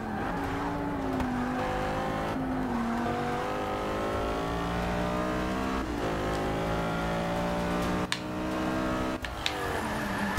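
Engine of an Audi R8 in the Forza racing video game, loud and continuous, with rising revs through several gear changes and a brief stutter near the end, holding steady at close range and with no talk over it.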